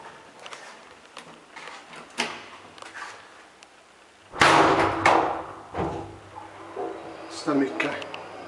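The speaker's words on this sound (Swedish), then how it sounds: "Vi får se hur mycket dörren smäller." The door of an old KONE roped hydraulic elevator in Söderhamn, Sweden, running on low oil pressure, slams shut with a loud thud midway, followed by rattles and clunks, while someone talks quietly in the background.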